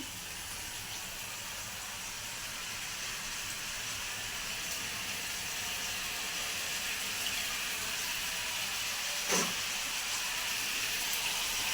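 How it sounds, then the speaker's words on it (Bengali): Water is poured into a rohu fish curry cooking in a pan, a steady sizzling hiss that stays fairly even throughout, with no talk. "আর একটু জল দেব আমি"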